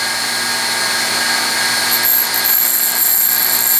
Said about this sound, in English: Grind a nice flat on the end.